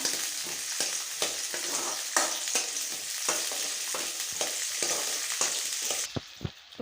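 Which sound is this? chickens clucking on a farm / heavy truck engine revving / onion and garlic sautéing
onion and garlic sautéing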